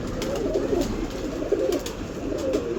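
Kasuri pigeons in a breeder's loft coo in low, rolling, repeated phrases, close and steady over a constant background hum, with no talking.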